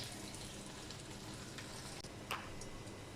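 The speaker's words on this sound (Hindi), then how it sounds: "इसी ऑयल में हम लोग प्याज फ्राई करेंगे।" Sliced onions frying in hot oil left from frying potatoes for biryani, a constant dense sizzle and crackle, close and even, with a faint stir near the end and no voices.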